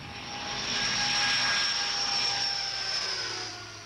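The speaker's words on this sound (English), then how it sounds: "the press is taken by chartered aeroplane to Belgium to try out in secret the new car" A chartered aeroplane drones steadily overhead, its engine swelling and then slowly fading, loud and continuous with no voices.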